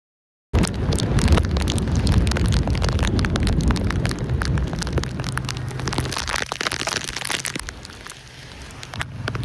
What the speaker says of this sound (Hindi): अभी भी काफ़ी बारिश हो रही है